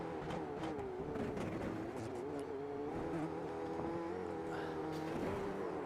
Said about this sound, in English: Let's listen in, see if there's any damage on that race car.